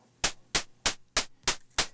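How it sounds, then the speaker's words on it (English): White noise from a synthesizer noise generator, gated through a VCA into six short, evenly spaced bursts of hiss, each opening with a click. Fairly quiet and regular, about three bursts per second. "So that is the white noise."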